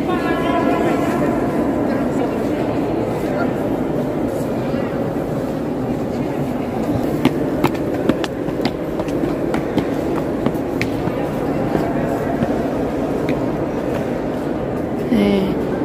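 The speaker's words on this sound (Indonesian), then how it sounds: "Ini sentral stasiunnya." Interior of Antwerpen Centraal train station, a loud continuous reverberant rumble of trains and crowd with scattered clanks and brief knocks throughout, faint voices in the background.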